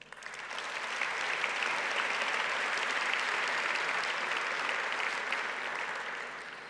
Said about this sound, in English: Let us give a big applause to all of them.